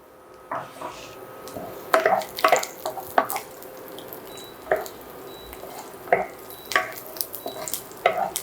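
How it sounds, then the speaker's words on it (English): Chopped ginger and garlic fry with browned cumin in a hot pan, giving a steady sizzle broken by sharp spoon clatters and stirring scrapes. Nobody talks over it. "So once your cumin is brown, I'm gonna add my chopped ginger garlic."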